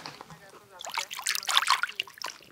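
Cool spring water trickles and splashes off freshly broken marble rock in Macedonia. Soft, close, irregular dribbling comes in after a faint voice at the start and holds steady to the end.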